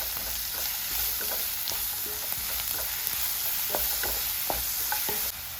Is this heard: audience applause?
no